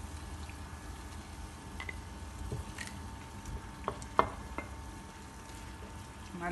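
Meat frying in ghee and oil with onions for chorba, a low steady sizzle with faint stirring clinks and one sharp utensil tap, quiet and close.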